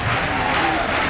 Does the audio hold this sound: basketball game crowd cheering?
yes